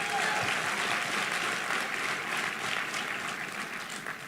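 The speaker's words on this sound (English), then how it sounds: "Give yourselves a round of applause." A crowd at an awards gala dinner claps steadily, the dense applause holding strong before gradually thinning toward the end.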